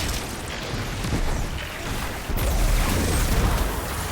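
Heavy cannon blasts in the shooter game Destiny 2 boom out as a dense, loud rumble of explosions, with a sharper, stronger burst landing midway through and sustained roar after.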